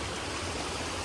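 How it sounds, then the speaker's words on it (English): A small waterfall in a forested park area of Sequoia National Park, its steady broadband rush of falling water continuous and fairly soft with no voices. "The guy told me there's like a little waterfall in here."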